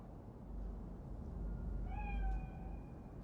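A single cat meows in Cyberpunk 2077, a short clear mew rising out of a steady low ambient rumble partway through.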